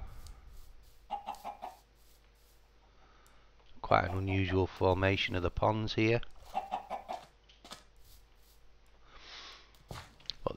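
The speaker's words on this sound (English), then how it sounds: "Chickens again." Chickens in the video game Minecraft give short clucks at the start and end, faint and intermittent, while someone talks in the middle.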